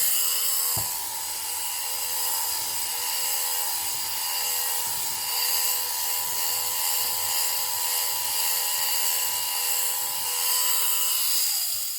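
A small electric motor of a lint remover, a combined iron and lint remover, whirs steadily at a high pitch without a break. A faint click sounds near the start.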